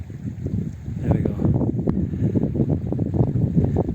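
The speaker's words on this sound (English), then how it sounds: "So it's getting a little bit windy," Wind gusts at foggy Chohar Nag lake in Kashmir, heard as a steady, rough rumble close to the microphone that holds throughout with slight surges.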